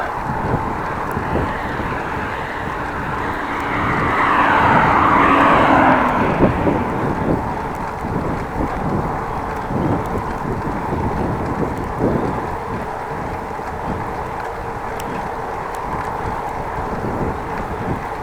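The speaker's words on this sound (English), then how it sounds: "But still wind." Steady wind buffets the microphone during a bike ride from Appingedam to Groningen, a continuous broadband rush that swells briefly in the middle and then settles to an even, fairly loud roar.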